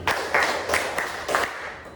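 A group of teachers at a training workshop claps hands on command, about five sharp, unison bursts spaced unevenly across a couple of seconds, close and moderately loud.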